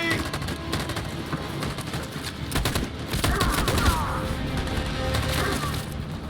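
Sustained machine gun fire rattles through a war battle scene in Detroit Become Human, loud rapid bursts layered with sharp gunshots and splintering impacts throughout.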